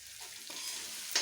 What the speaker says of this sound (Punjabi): ਹੁਣ ਆਪਣਾ ਮਸਾਲਾ ਭੁੱਜਦਾ ਆ ਜੀ